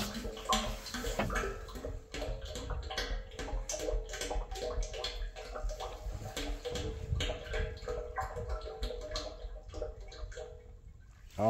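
Hydraulic fluid pours steadily into the tank of a Volvo excavator. A continuous close gurgle and glug runs for over ten seconds, with a louder burst at the end and no talk.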